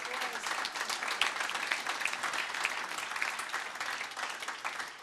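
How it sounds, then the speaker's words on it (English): Conference audience applauding, a sustained crisp clapping texture at moderate distance, fairly even throughout without voices standing out. "So give yourself an applause for that."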